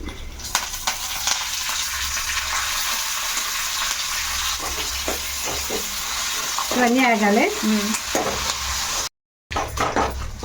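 Cumin seeds, asafoetida and four or five broken dried red chillies crackle in hot oil for a tempering, giving a loud continuous sizzle with stirring clatter and a brief spoken remark.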